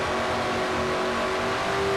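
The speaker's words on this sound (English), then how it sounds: "Riding with Seth Cole in car 6, the Valvoline Ford" A Valvoline Ford stock car, number 6, roars at sustained high revs in a racing video game on Bristol's night track, a loud, steady engine drone with a strong harmonic whine throughout.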